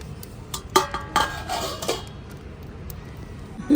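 Pot of pigeon peas set to boil with salt and covered with a lid, a few sharp metallic clinks and clatters at close range, no talking.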